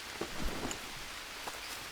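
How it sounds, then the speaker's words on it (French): Steady rain falls in the jungle survival game Green Hell, a continuous soft hiss of drops with a few slightly louder patters, heard alone without voices. "Vous pouvez constater qu'il pleut toujours."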